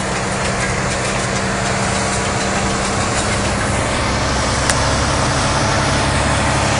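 A truck works to clear snow from the roads during a 2014 snowstorm in South Carolina, heard as a steady, loud engine rumble with broadband road and scraping noise running throughout.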